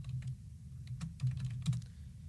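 Computer keyboard being typed on to enter a database command, a quick irregular run of soft key clicks and taps, close and quiet, with no talking.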